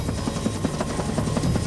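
Rotor blades whir in a rapid rhythmic chop, like a helicopter hovering or flying nearby, the beats pulsing evenly at a moderate level for a couple of seconds without speech.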